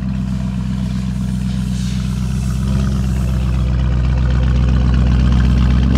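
A 2022 Lamborghini Urus Mansory Venatus SUV with a loud, steady, deep engine and exhaust drone close by, rising slightly in the second half, with no talking.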